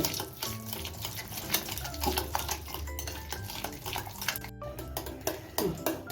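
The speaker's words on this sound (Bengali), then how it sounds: "এখন আমি এই দইটাকে একটা হ্যান্ড দিয়ে সাহায্যে তিন মিনিট ভালো করে ফেটিয়ে নেব" Yogurt whisked by hand in a bowl for bhapa doi, a busy continuous run of quick scraping, clinking strokes against the bowl, close and fairly loud with no talking.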